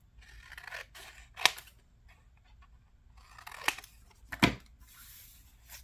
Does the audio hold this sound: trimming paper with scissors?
yes